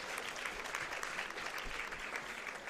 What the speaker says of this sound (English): Let us give a big round of applause to all awardees once again.